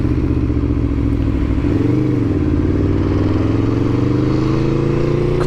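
Loud, close engine drone from a second-hand Aprilia Tuono V4 1100 Factory motorcycle on the move, holding a steady pitch with a brief dip and rise in revs.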